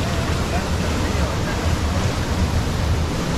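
River water at Las Pilas in San Francisco Morazán, Chalatenango, rushes in a steady, loud, close wash with no break.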